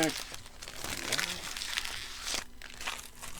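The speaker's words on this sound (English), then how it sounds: "Sorry for all the crinkling sounds. But if you're here to listen to me crack packs, you probably don't mind too much." Plastic wrappers on Star Trek TNG Season 5 trading card packs crinkle and tear at close range in bursts of rustling, with a voice speaking faintly underneath.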